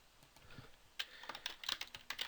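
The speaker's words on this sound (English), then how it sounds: "So I might want to type" Quiet, close typing on a computer keyboard, a short run of light irregular key clicks that quickens after a brief pause, no talk.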